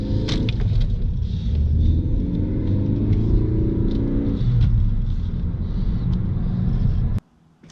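A 1988 Pontiac Firebird's 305 V8 with two-port fuel injection rumbles loudly and steadily nearby after a cold winter, with a rising sweep early on. The engine noise then cuts off abruptly near the end.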